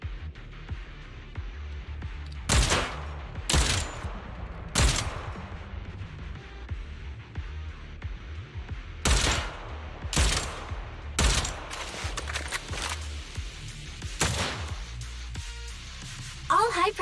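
Rapid gunfire from Zenless Zone Zero comes in several short, loud bursts spread across the stretch, with the densest cluster in the middle. Game voices and background sound run between the bursts.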